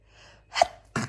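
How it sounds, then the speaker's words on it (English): A single human sneeze indoors: a short sharp intake of breath followed by an abrupt, forceful burst, close and clear in a quiet room. "So definitely, I'm going to sneeze."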